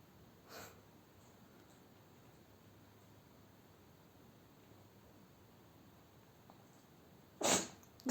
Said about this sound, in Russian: Ты что так чихаешь?